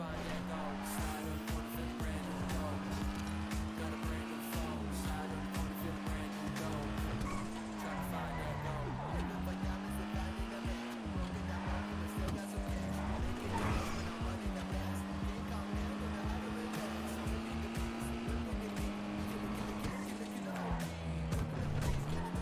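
Cars racing in the NoPixel game, engines droning and rising in pitch through repeated gear shifts, with tires squealing and skidding, loud and continuous, while a voice talks over the action.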